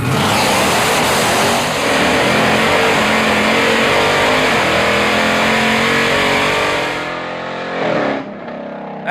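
A 1968 Dodge Charger fitted with a supercharged 707-horsepower Hellcat engine roars down a drag strip at full throttle, a loud sustained engine howl that shifts through gears and cuts off sharply near the end.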